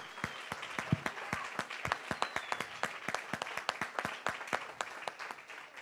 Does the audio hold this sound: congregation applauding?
yes